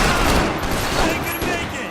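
Heavy sustained gunfire from a firefight in the video game Max Payne 3 roars as a loud, unbroken fusillade of overlapping shots, thick and close for the whole two seconds.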